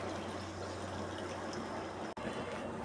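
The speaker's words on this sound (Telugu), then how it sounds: "లైట్గా వాటర్ యాడ్ చేసుకోండి." Water poured lightly into a chicken curry cooking in a pot gives a steady, close rushing splash for almost three seconds, broken by one brief cut near the end.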